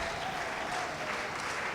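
A church congregation breaks into sustained applause, a steady dense wash of clapping from many hands filling the room with no talk over it.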